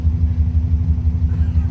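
A 1997 Subaru Outback with a new exhaust runs close by, a loud, low, throbbing rumble pulsing in a steady rhythm.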